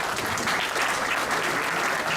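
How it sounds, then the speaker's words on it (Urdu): Steady applause from participants in a family-and-friends Zoom memorial meeting, a continuous dense patter of many hands clapping at moderate level with no talking over it. "اوکے، تھینک یو شائنہ آپا اور عدیلہ کے لیے بہت ساری تالیاں۔"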